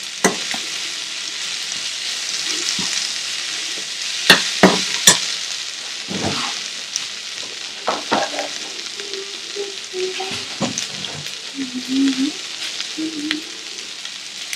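Tomatoes sizzle and fry in a pan as the base for prawn vindaloo, a steady close crackle broken by a few sharp clinks and scrapes of stirring.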